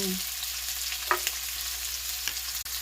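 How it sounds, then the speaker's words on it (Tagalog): Onion and garlic sauté in a pan for Filipino-style spaghetti sauce, giving a continuous even sizzle with a few faint utensil scrapes and taps, no talking. "Magigisa muna ako ng sibuyas at bawang."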